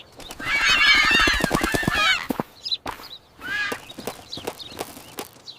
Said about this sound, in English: And now we have birds.